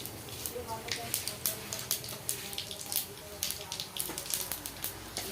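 Whole cumin seeds and dried red chillies frying in hot oil in a home kitchen, a steady crackling sizzle with irregular popping bursts, fairly close and continuous.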